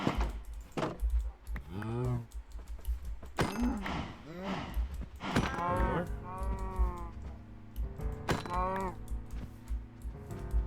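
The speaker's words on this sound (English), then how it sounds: "Alright, cows." Cows in the video game Minecraft moo repeatedly in short, overlapping calls at moderate volume, with light clicking and someone talking now and then.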